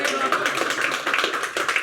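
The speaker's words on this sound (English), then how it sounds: "That was a round of applause." Live podcast show audience in London giving a round of applause, a steady dense patter of many hands clapping close by, with some voices mixed in.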